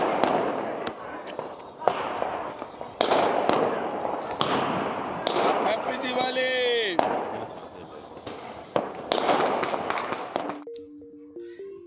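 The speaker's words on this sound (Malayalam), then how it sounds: "ദീപാവലി ആയതുകൊണ്ട് തന്നെ അവിടുത്തെ വെടിക്കെട്ട് കാണാനുള്ള ഭാഗ്യവും കിട്ടി" Diwali fireworks over a Himalayan village in the Parvati Valley, with repeated sharp bangs and crackling bursts, a whistling rocket rising midway, and a thin tonal whine near the end.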